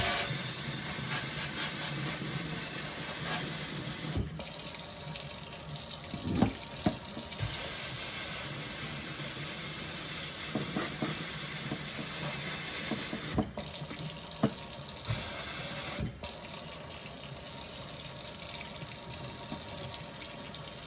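Water sprays steadily against a dishwasher filter up close, a continuous rushing hiss with brief interruptions and shifting splashes as the spray moves.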